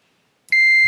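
A multimeter gives a continuity beep across a shorted 472 resistor: after a brief silence, a single loud, steady high-pitched tone starts and holds to the end.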